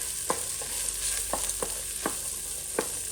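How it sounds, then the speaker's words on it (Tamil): Small shallots stirred and sautéed in a pan for a Kongu-style Pallipalayam chicken, giving a steady soft sizzle punctuated by about six sharp scraping clacks of the spoon against the pan, fairly close, with no talking. "இப்போ சின்ன வெங்காயம் நல்லா கோல்டன் ப்ரௌன் வர வரைக்கும் நம்ம நல்லா வணக்கிக்கலாங்க"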